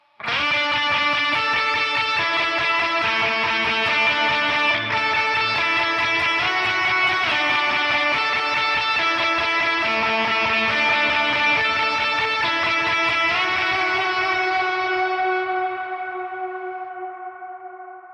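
An electric guitar through an octave pedal stacked with overdrive plays a ringing lead line with an octave-doubled, echoing tone, sustaining continuously before fading out at the end.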